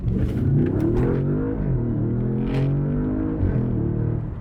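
An Audi S6 C7 Quattro engine pulls hard under acceleration, a deep rising drone with clear harmonics heard from inside the car, climbing in pitch with a brief dip as revs shift.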